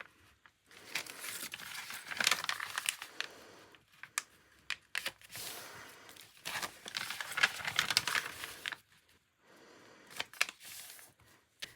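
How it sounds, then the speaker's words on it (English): Paper pages for a junk journal are handled and folded in half, giving close, soft rustling and crinkling in several bursts separated by short pauses, with no talking. "I'm going to turn my pages sideways and I'm going to fold these all in half"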